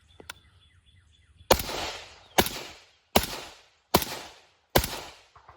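Five suppressed rifle shots from a carbine fitted with a Griffin Armament S.O.B. buffer system and rifle-length gas system, each a sharp crack with a short decaying tail, fired at steady intervals of under a second, close and loud.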